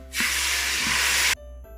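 Water hits hot oil while cooking camel pulao and erupts into a loud, broad sizzling hiss that lasts about a second, then cuts off abruptly.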